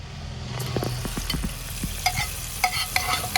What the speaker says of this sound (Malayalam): മാങ്ങയ്ക്കകത്തോട്ട് നമുക്ക് ഈ താളിച്ചത് അങ്ങോട്ട് ഒഴിച്ചു കൊടുക്കുക.